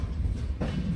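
A moving passenger train rumbles steadily from inside the carriage, with a low continuous roar and a sudden louder clatter of wheels over the track partway through.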